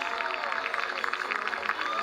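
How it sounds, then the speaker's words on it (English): A Boston College baseball crowd gives a pitcher a standing ovation, steady applause and cheering from a stadium audience sustained throughout, moderately distant. "a much-deserved ovation"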